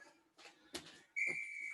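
A sharp, loud whistle blast signals the end of a workout interval, a single sustained tone following a few soft rustling sounds.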